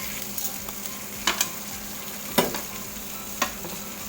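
Tofu (tokwa) fries in hot oil with a steady, close crackling sizzle, punctuated by a few sharp pops or utensil taps at roughly one-second intervals, with no voices.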